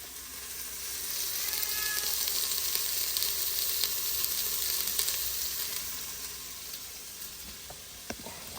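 Vegetables browning in a frying pan, a soft, steady sizzle at moderate distance that swells and eases, with a faint utensil tap near the end and no talk.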